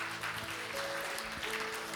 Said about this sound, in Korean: 영광의 박수 한번 올려드리겠습니다